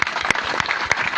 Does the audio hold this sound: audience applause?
yes